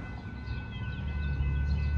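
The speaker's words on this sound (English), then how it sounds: "Ooh, is that a train? I think there's a train coming." A train approaches along a rail line near a small-town filming location, a low rumble and rolling rail noise swelling gradually, moderately distant, with no voices over it.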